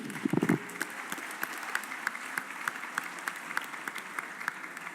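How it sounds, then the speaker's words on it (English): Applause from people in a state House legislative chamber gallery, a steady wash of many hands clapping at moderate distance, with a brief burst of close, louder clapping near the start. "If they would please rise and everybody give them a round of applause as well."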